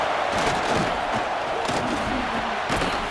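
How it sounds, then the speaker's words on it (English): A fired-up stadium crowd roars in the video game College Football 26 during a Texas versus Ohio State matchup, a dense sustained wash of cheering with scattered thumps and swells beneath. "It's early, but this crowd is fired up. Listen to this noise here."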